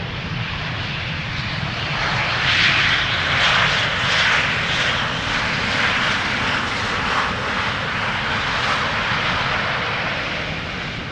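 An airliner arriving at Amsterdam Schiphol Airport from Ljubljana, Slovenia, its engines giving a steady broadband roar that swells slightly mid-pass and holds loud and close throughout, with no talk.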